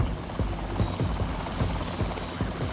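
Rescue helicopter hovering during a winch operation at a motocross crash site, a steady loud rotor roar with rhythmic low thumps of the blades, continuous and close, with no talk.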